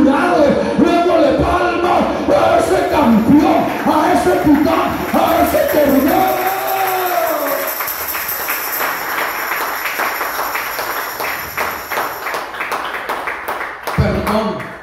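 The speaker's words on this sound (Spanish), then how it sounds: "Dándole palmas a ese campeón." A church congregation breaks into rhythmic clapping and cheering after a preacher's voice, the crowd noise loud and dense, continuing steadily and swelling again near the end.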